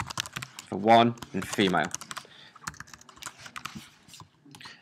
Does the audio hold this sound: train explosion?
no